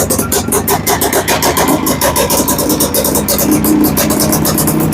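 A Honda Odyssey FL250 off-road buggy engine, cold and with the choke on, runs loudly and close with a fast, rough, pulsing beat that holds steady at a high idle.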